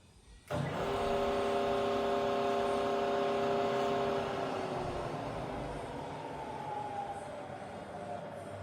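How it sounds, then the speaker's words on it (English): A Bridgeport milling machine with a 42-inch table and its variable speed head spinning at 1600 RPM starts abruptly, then holds a loud, steady motor hum with a tonal whine that sags slightly in pitch toward the end. "let's test the variable speed head and the quill. So we're currently running at 1600 RPM"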